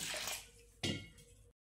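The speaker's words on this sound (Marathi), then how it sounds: "प्रथम आपण गहू वलवून घेऊ। 2 ते 3 पाण्याने स्वच्छ धुवून घेऊ।" Wheat grains being rinsed in water in a kitchen vessel: a soft swishing of water followed by one sharper splash and slosh, brief and close.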